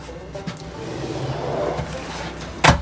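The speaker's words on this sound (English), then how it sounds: "All our drawers, by the way, have these ball bearing latches on them, and it keeps the drawers closed" In a self-converted school bus tiny home, a drawer fitted with a ball bearing latch shuts with one sharp, close thud near the end, after a few seconds of quiet shuffling.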